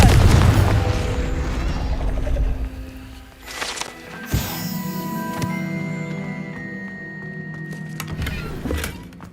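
Confringo blast spell explosion in Hogwarts Legacy, a sharp booming burst around midway, surrounded by game effects, clanks and lingering magical tones.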